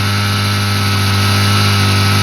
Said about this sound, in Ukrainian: двигун пішов на грузку і видає